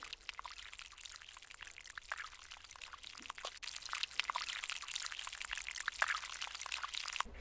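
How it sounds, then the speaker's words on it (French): Water poured or sprinkled onto dry garden soil, a steady hissing patter that runs continuously at close range without speech. "Et donc il va falloir simplement arroser,"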